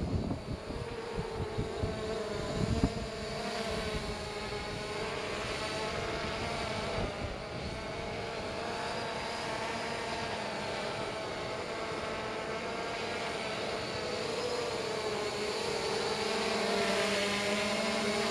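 An SJRC F11 4K Pro drone flies nearby with a continuous high-pitched buzzing whine of its propellers that holds steady throughout, with a few faint knocks near the start.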